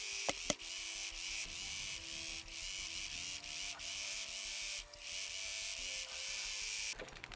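A sewing machine runs in steady bursts while stitching quilt border pieces, its needle mechanism whirring and clicking up close, with brief pauses between runs and no talking.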